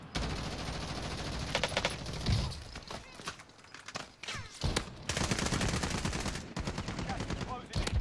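Rapid bursts of automatic gunfire and scattered shots in a Call of Duty Warzone battle, loud and close, coming in dense volleys with brief gaps.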